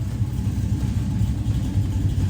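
A 1979 Ford F150 truck engine runs steadily, giving off a loud, close, continuous low rumble with a fast pulsing throb and no speech over it.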